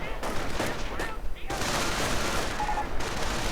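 Gunfire rattles in a World War II strategy video game, bursts of rapid machine-gun and rifle shots with distant booms, crackling continuously at moderate loudness.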